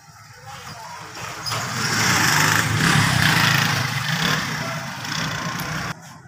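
A motorcycle engine runs nearby with a steady mid-pitched hum that swells and eases slightly, and voices talk over it throughout before it cuts off abruptly.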